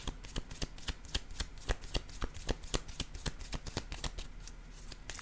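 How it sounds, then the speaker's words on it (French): Playing cards handled on a table during a card game, a quick series of sharp, close snaps and slaps at a steady, even rhythm, no voices. "je vais déposer une autre carte"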